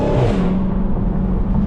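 A Dodge Charger SRT Hellcat, 707 horsepower with more supercharger whine than stock, roars loud and close, a steady engine growl carrying a high tonal whine through a short burst.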